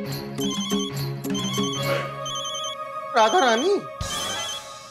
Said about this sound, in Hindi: हमारी धर्मपत्नी का फोन है